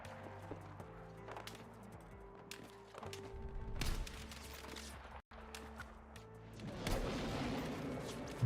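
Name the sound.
gunfire in the video game Battlefield 6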